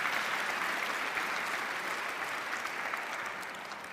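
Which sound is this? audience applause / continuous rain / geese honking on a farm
audience applause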